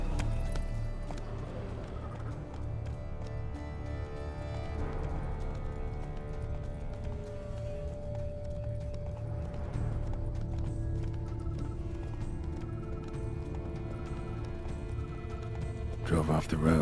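Horse hooves clatter in a steady galloping rhythm over a low rumbling background in The Witcher 3: Wild Hunt, with game-style ambience and a brief louder burst near the end.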